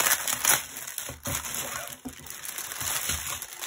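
Close, crackly crinkling and crushing of a double-sided plastic bag being handled, in irregular bursts of rustle with short pauses.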